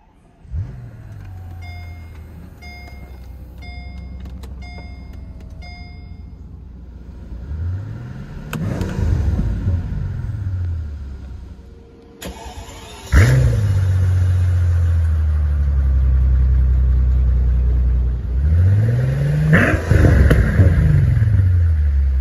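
A 2005 Mercedes-Benz SL65 AMG gives a few quiet electronic beeps before its engine fires up with a rising roar. Several loud, close revs follow, each swelling and falling back to a deep, rumbling idle.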